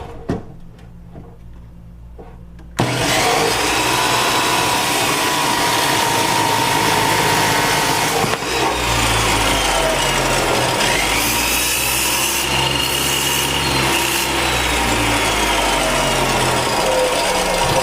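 A power tool grinds harshly and continuously through metal while a hole is drilled for a transmission cooler mount on a 5.0 Mustang in a garage, loud and close after a brief quieter start.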